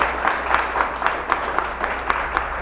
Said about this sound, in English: Let's have a round of applause for Work From.